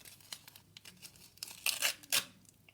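A strip of adhesive tape is pulled and torn while sealing a package near stickers on parchment. Light crinkling and small clicks lead into two loud rasping tears close to the microphone, with no talk.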